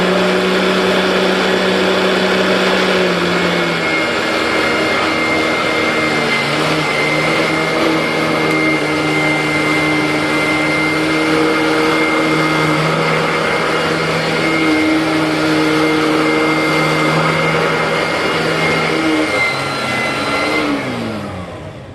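A Royal Pro Series 9 amp vacuum cleaner runs steadily and loudly throughout, with a sustained motor whine and shifting tones, then winds down at the end.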